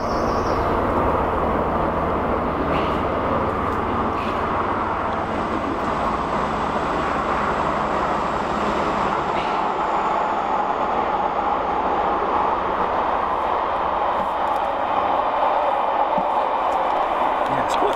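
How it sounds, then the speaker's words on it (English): A steady, rumbling roar of a train passing at a distance, continuous and broadband for the whole stretch, with faint outdoor ambience. "Train again. We're near the rail line."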